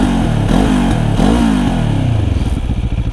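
A 2024 Benelli TRK 702 motorcycle engine revs up and down close by, rising and falling pitch sweeps in several throttle blips, then settling into a loose, burbling idle.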